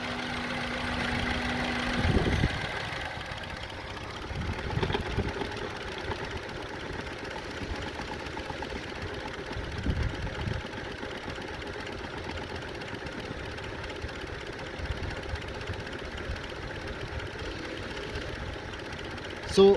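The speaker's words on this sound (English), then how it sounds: "It's not like the engine is running smooth, but it's very in low RPM." A Honda CR-V engine with rough idle problems idles at low RPM, a steady low mechanical hum with faint irregular knocks and rattles, heard close and fairly quiet, with occasional handling bumps nearby.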